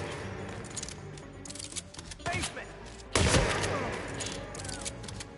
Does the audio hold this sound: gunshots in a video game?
yes